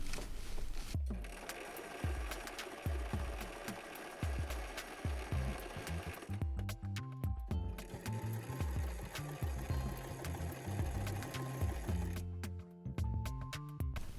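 A sewing machine stitches a buttonhole in rapid rhythmic bursts, a quick run of needle strokes first, then denser steady stitching after a brief pause.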